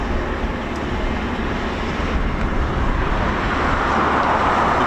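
A Eurofighter Typhoon FGR4 jet flies a display at RAF Coningsby, heard as a loud, continuous broadband roar that holds steady throughout with no talk.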